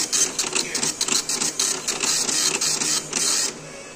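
An Epson LX-310 dot matrix printer prints its settings with loud, rapid buzzing print-head bursts in quick stuttering passes, close up, before it stops.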